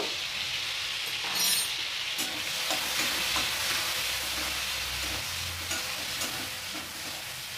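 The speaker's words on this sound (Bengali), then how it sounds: "চিংড়ি মাছ ভাজা হয়ে গেছে আমি চিংড়ি মাছটাও তুলে নিচ্ছি" Prawns seasoned with salt and turmeric fry in hot oil with a loud, continuous close-up sizzle, lightly broken by stirring, and no voices.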